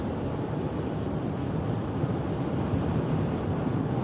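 Strong wind in Fort Myers right after a tornado buffets and roars continuously, a dense low rumble with gusty fluctuations and no pauses.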